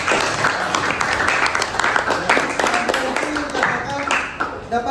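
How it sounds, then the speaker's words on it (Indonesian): A classroom of students claps for a classmate, steady clapping at close range lasting several seconds, with voices mixed in. "Tepuk tangan untuk Messi ya."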